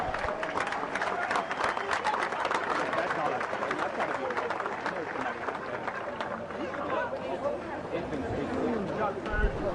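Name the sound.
crowd applause for swimmers at a championship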